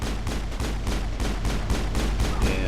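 Dense, continuous gunfire from the Mass Effect video game, rapid shots in an unbroken volley with steady loudness throughout, no voices.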